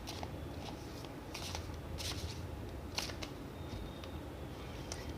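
Tarot cards are shuffled in soft, quick riffling bursts of dry papery flicks during a zodiac reading, close and quiet with short pauses between.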